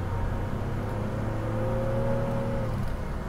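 A 1991 Oldsmobile Toronado drives steadily with a continuous low engine hum, its tone dropping smoothly as the transmission shifts up near the end, heard from inside the car with no talking.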